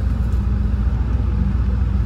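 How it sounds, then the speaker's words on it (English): A 1984 Porsche 928 S engine on a test drive, a steady low rumble heard from inside the car, loud and even with no other sounds. "Test driving the Porsche 928."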